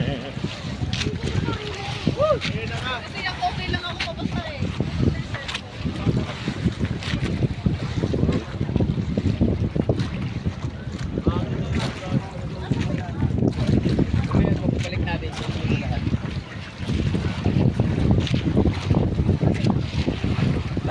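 Waves slosh and wind buffets around a sailing outrigger paraw at sea, a continuous rushing wash with gusts, while people talk close by over it.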